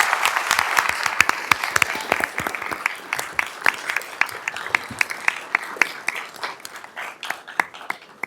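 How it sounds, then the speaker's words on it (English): At a school board meeting, a room of people gives another round of applause for award winners. The clapping starts as a full, dense burst and then thins toward the end into scattered, distinct claps. "So how about another round of applause for all the winners?"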